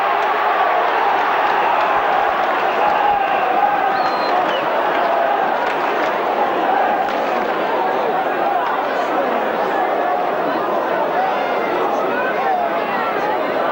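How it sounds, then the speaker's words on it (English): A big rugby league crowd roars steadily at Knowsley Road during St Helens versus New Zealand, a loud, continuous wash of cheering and chatter with a commentator's voice over it. "Roar the crowd"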